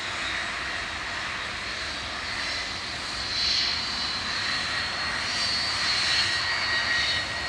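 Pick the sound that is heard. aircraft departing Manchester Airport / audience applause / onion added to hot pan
aircraft departing Manchester Airport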